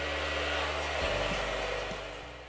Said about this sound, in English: I'm going to just add the attachment to my blow dryer